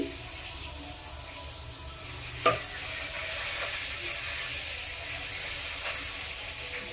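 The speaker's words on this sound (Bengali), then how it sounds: "আমি আবার তেল দিয়ে দিচ্ছি" Oil sizzles in a pan between batches of frying lentil badi in a home kitchen, a steady close hiss broken once by a short metallic clank, with no talking.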